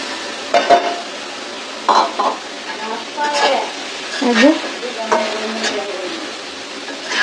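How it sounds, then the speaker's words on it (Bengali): Bitter gourd and green chilies fry with shrimp in a pan, with a steady sizzle and repeated stirring scrapes at close range, while someone talks over the cooking. "চিংড়ি মাছ কষানো হয়ে গেছে এখন আমি করলা করলাটা দিয়ে দিব করলা এবং কাঁচামরিচ"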